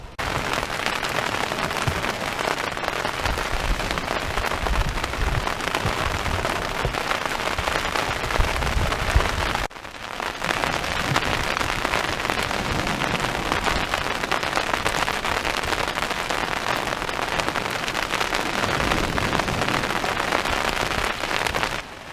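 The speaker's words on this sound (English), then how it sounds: "it is super bucketing down. We're just taking refuge in the tent, hopefully riding out the storm" Heavy storm rain hammering down on a tent during a UK sea fishing trip, a loud, dense, continuous hiss and patter that barely changes for over twenty seconds.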